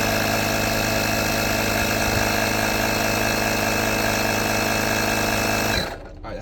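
A BMW E46 engine runs steadily at close range during a fuel system flush, giving a constant dense mechanical drone with a faint rattle, then cuts off abruptly near the end.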